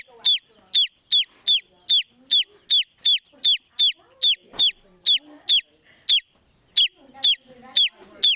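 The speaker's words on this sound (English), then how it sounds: "It is obvious these chickens have been making a lot of noise" Hatched chickens raised in a classroom make a steady series of sharp, evenly spaced high peeps and clucks, loud and close, with faint murmuring underneath.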